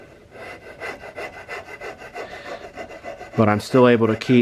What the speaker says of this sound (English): my round area of my file down here on the wrist, so I'm smoothing this out and rounding this out naturally